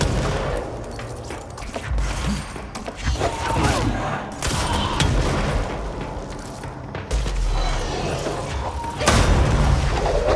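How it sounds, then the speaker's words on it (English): Explosions and crashing booms in the video game Control, with dense rumbling impacts and debris throughout. A heavy blast hits late in the clip. "That exploded?"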